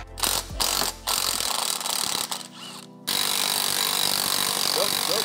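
Impact gun working on a car's suspension during a DSM chassis swap, loud mechanical rattling bursts with a brief pause, then a steady sustained run through the second half.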